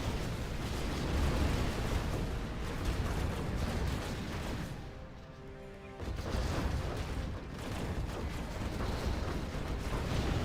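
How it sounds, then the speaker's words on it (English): Nuke cannon shells explode during a Command & Conquer battle, a dense, continuous roar of heavy blasts and rumble that briefly thins out before surging back. "Oh, the nuke cannon misses."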